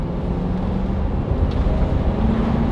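A Chevrolet Express camper van, a Roadtrek 190 on a 3-inch suspension lift with new bushings and springs, accelerates on the road: a steady low engine drone and road rumble from inside the cabin.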